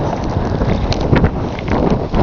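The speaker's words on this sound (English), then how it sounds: "they're waving back and forth a little bit because it's kind of windy." Steady wind roars and buffets during a snowstorm in Meadville, Pennsylvania, loud broadband rushing with gusty swells and microphone wind noise, no voices.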